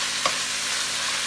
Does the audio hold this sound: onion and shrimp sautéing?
yes